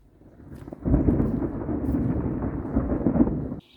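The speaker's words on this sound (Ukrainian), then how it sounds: "Ой-ой, які розкати грому. Зараз буде грім." Rolling thunder outdoors at a monastery on a hill: a deep, sustained rumble swells in and rolls on for several seconds before cutting off, loud and low with no talk over it.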